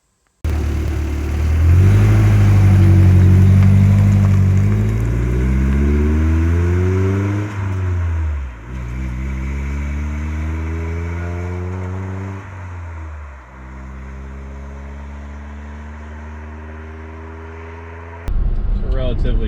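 A 1993 Toyota pickup truck engine drones while driving on a flat stretch of road, rising in pitch through the gears with dips at each shift before settling into a steady cruise, loud and close from inside the cab.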